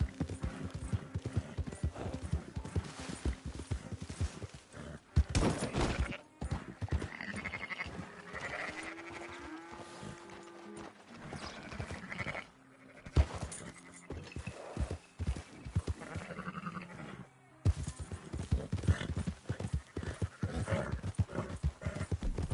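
Horse hooves galloping in Red Dead Redemption 2, a steady fast clip-clop running throughout at close range with a few brief gaps, occasional snorts and animal calls mixed in, and a rider's short spoken commands.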